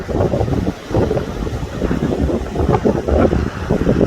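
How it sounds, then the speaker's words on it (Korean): Sea surf breaks along the Jeju coastal road, a steady loud rush of waves mixed with heavy wind buffeting on the microphone, continuous throughout with no voices. "파도 냄새, 파도 소리 좋습니다"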